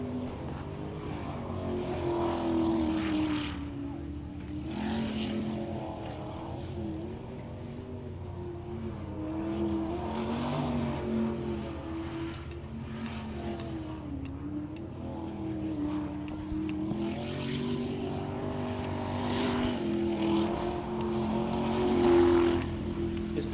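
A V8 superboat engine roars at full throttle out of the start chute, a loud, sustained, droning snarl with rising and falling pitch over spray and wind for the whole stretch.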